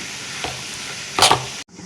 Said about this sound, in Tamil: தேங்காய் எண்ணெய் சேர்த்துட்டு 1 ஸ்பூன் கடுகு, உளுந்து, சீரகம் எல்லாம் நல்லா பொரிச்சு வரட்டும்.